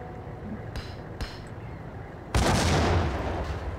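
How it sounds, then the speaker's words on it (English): A grenade goes off in the Max Payne action game. Two sharp impacts come first, then a loud, heavy blast that rumbles and slowly fades. "Grenade again."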